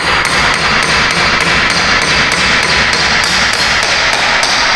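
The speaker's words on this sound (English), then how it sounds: "We'll give it a couple light taps." A hammer taps the axle into the rear wheel bearing hub of a Hyundai Santa Fe, a rapid, regular series of about fourteen close metallic strikes in a loud, dense workshop setting.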